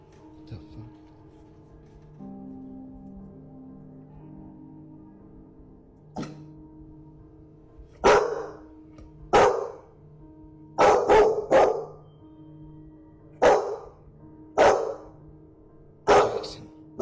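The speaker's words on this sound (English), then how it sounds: "The dog seems to react and bark aggressively at the door" Dog barking aggressively at a door in a series of loud, sharp barks, single and in quick pairs, coming close and clear over a low steady hum.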